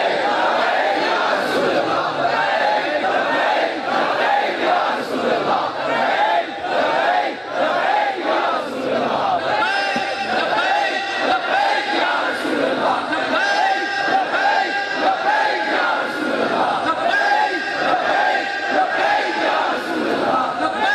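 A large crowd at a gathering for Allama Khadim Hussain Rizvi in Mirpur, Azad Kashmir, chanting slogans loudly in a steady rhythmic call-and-response pattern that runs continuously throughout.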